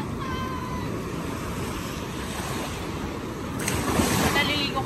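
Strong Pacific surf rolls onto a beach at Dingalan, Aurora, in a constant broad roar that swells slightly louder toward the end, with wind noise and no clear speech.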